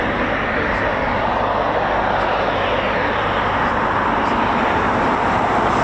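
A Eurofighter Typhoon FGR4 jet taxis at RAF Coningsby, giving a continuous, loud, broadband engine roar that stays steady throughout with no breaks.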